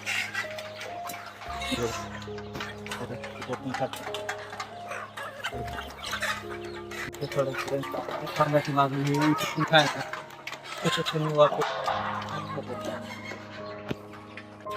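Free-range pure desi village chickens, hens and roosters, cluck and call continuously nearby on a farm, the fowl chatter layered over steady background noise while a person talks.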